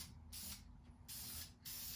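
Spray paint hisses on in light coats beneath a car's hood, three bursts of roughly half a second each separated by short pauses, close and fairly loud over a low background hum.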